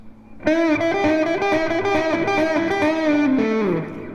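Loud distorted electric guitar plays a rock pentatonic lick, sustained notes with vibrato ending in a downward bend before fading out.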